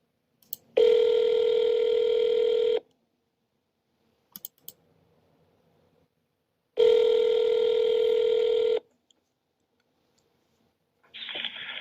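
Two long, loud ringback tones on a telephone line, each about two seconds, separated by a pause with faint clicks, ending with a brief burst as the call connects; no voices.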